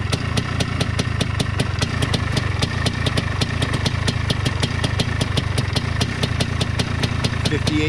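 A 2001 Yamaha Blaster YFS200 two-stroke engine idling right after a cold start: a close, steady, rapid putter with a fast, even ticking rhythm and no talking.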